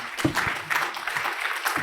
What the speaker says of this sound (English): But now another round of applause for Marvin.